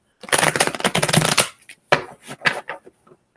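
Playing cards being shuffled by hand at a ghost-hunting session, a dense riffling burst for over a second followed by a few shorter, softer card flicks, close and clear with no talking.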